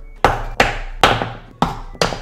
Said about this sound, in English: Hit it as hard as you can with a hammer.